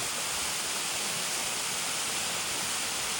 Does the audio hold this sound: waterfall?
yes